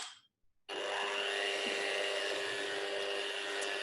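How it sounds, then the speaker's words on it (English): An electric mixer whirs steadily after a brief start, beating wet ingredients for a spiced honey cake with a constant high-pitched motor drone, close and fairly quiet. "So we're just beating together all the wet ingredients."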